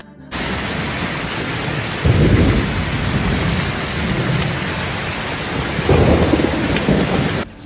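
Heavy monsoon rain pours steadily in Dehradun, with two deep rolls of thunder rumbling over the constant hiss, one early and one near the end; no voices.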